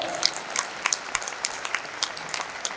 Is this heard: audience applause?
yes